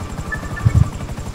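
A helicopter approaches over rocky ground, its rotor making a steady, rhythmic low thudding that swells briefly in the middle.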